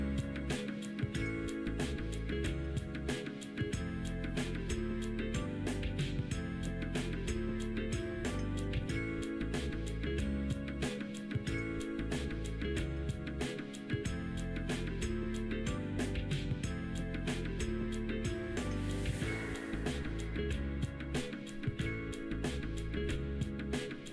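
Dense layered beach soundscape built from blended samples, a steady wash of surf-like noise with rapid overlapping clicks and rumbles, constant and full throughout with no talking.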